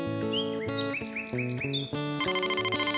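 A cartoon mobile phone rings with a bright, repeating electronic tone, following a few playful chirping notes in a children's animated show for babies.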